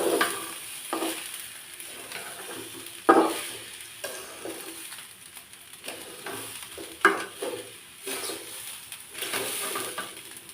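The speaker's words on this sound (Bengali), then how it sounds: "খুদগুলো দিয়ে হলুদটা একটু মিক্সড করে নিতে হবে" Broken rice and turmeric powder being stirred in a frying pan, giving soft scraping strokes and a light sizzle at a steady, close-up pace, with a few sharper utensil knocks along the way.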